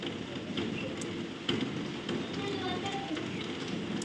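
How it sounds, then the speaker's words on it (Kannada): Steady rain patters outside a window, a soft continuous hiss with occasional louder drips, heard from indoors at moderate distance. "ನಮ್ಮ ಕಿಟಕಿಯಿಂದನೇ ತೋರಿಸ್ತಾ ಇದ್ದೀನಿ ಮಳೆ ಬರ್ತಿರೋದು"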